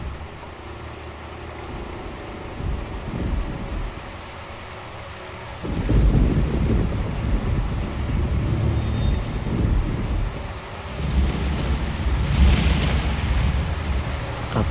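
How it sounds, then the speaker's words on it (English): Rain and thunder from a Dark Souls 2 video game cutscene: steady rainfall under two heavy, rolling thunder rumbles, the first swelling midway and the second near the end. "I better get up or I'll drown in the rain."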